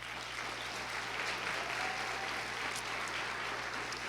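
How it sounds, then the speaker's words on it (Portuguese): A church congregation applauds together, a steady, dense wash of clapping filling the room at an even loudness for the whole stretch, with no voices standing out above it. "Dê um aplauso a ele."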